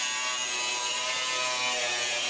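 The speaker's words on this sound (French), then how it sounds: "Perceuse, disqueuse," Power tools such as a drill and an angle grinder at work while parade floats are built for a feria's 60th anniversary, giving a steady, dense high-pitched whirring and grinding that runs continuously without pause.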